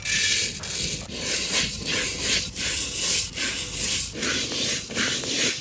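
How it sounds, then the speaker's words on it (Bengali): Rice grains are dry-roasted in a pan for a traditional Barishal biski, with a spatula scraping and rubbing in a steady back-and-forth rhythm, close and clear with no talking. "এখন আমাকে ভাতের চাউল ভাজতে হইবে।"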